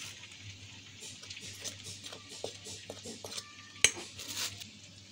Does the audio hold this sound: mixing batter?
yes